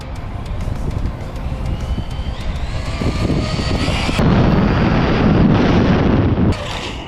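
An Arrma Talion RC car on a speed run with AVC stability control on, its electric motor whining loudly and rising in pitch, with roaring wind and tire rush, then cutting out abruptly before briefly returning.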